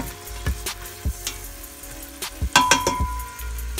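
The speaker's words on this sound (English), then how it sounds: "let's check on our sauteing onions and bell peppers" Onions and bell peppers sizzle in a pan for Cajun chicken pasta, a steady close frying hiss broken by a few sharp clinks and scrapes of a utensil stirring against the pan.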